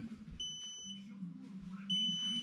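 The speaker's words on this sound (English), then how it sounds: "I'm just getting a beep, beep, beep," An electric Razor scooter upgraded with a 5kW motor and 60V Surron battery emits high repeated electronic beeps in two pulses, faint over a low steady hum.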